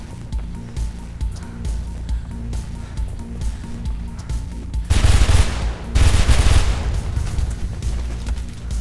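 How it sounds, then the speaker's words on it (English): Enemy MP9 gunfire in the video game Mirror's Edge: loud bursts of rapid automatic fire that break out over steady game noise and continue in heavy, overlapping volleys. "10 dudes shooting at you. MP9s, basically."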